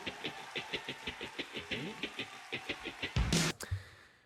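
Guitar comping in the intro of a song: a rhythmic run of short muted strums pulsing about four times a second, ending in a brief crash and a fading tail.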